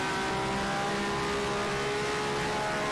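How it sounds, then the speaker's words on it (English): Race car engine from the Grand Prix Legends racing game, held at high revs without a break, a steady buzzing drone that stays fairly quiet and even for the whole stretch. "Really pushing the revs. I hope I don't blow it up."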